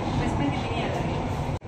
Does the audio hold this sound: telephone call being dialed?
no